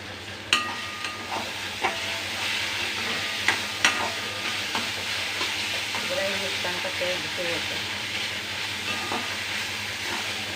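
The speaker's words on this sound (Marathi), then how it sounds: "एक थोडा वेळ त्याच्यामध्ये वाफवून घेऊया" Jackfruit seed curry cooks in a pan, steaming with a steady close sizzle and scattered clinks of stirring throughout.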